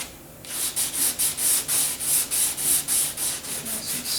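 Filler on a Ford Flex bumper cover is hand-sanded with 220-grit paper in quick, even back-and-forth strokes, about a dozen rhythmic rasping passes, loud and close.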